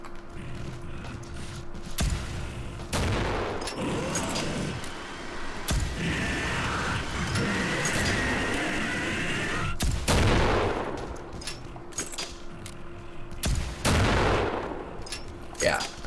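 Single-shot gun firing in the video game Killing Floor, loud separate blasts spaced a second or two apart over a constant game din and rumble.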